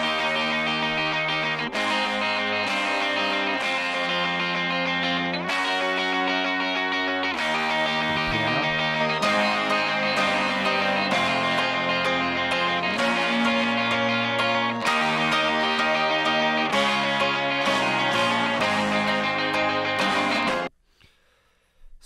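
Jangly rhythm guitar layered with directly injected fuzz-distorted single-note lead lines, playing continuously and loudly for about twenty seconds before cutting off abruptly.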